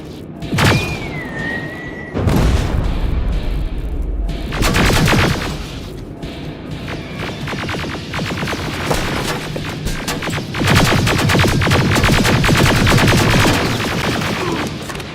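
Gunfire in the video game Terminator Resistance, loud and dense with heavy booms and rapid bursts, rising to nearly continuous shooting toward the end.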